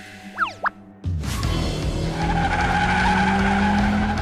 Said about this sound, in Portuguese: Ouço o barulho dos pneus e o som do motor.